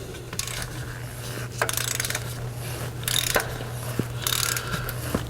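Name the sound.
ratchet tightening oil filter cap wrench on Mazda 6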